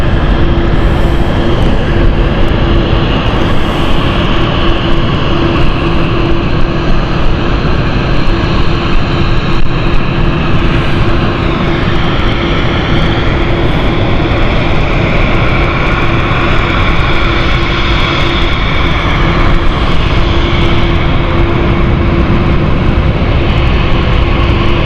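An inbound flight from Amsterdam arrives at London City Airport, its engines producing a loud, continuous roar with a steady droning tone that holds for the whole stretch.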